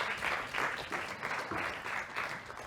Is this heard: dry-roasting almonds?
no